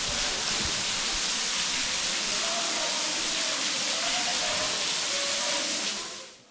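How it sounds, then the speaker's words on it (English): Waterfall in the Conkles Hollow gorge, a broad, constant rushing hiss of falling water heard up close, steady and loud before fading at the end, with no talk over it. "It's a waterfall."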